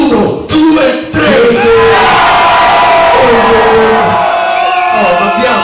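A concert crowd at a hip-hop show in Rome shouts and cheers loudly, a sustained roar of many voices after a brief opening burst, with a voice calling out near the start.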